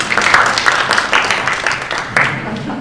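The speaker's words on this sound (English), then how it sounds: "Round of applause again." Audience applause at a school renaming meeting, a crowd clapping briskly and fairly loud, swelling and dipping in small bursts for about three seconds with no speech over it.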